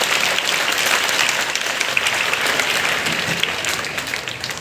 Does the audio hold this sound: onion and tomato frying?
no